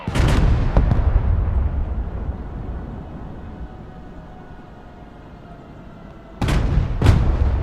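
An M1 Abrams tank firing its main gun in the war game Broken Arrow: heavy booming blasts at the start and again near the end, each with a sharp crack and a low rumbling decay, over a steady ambient hum between them.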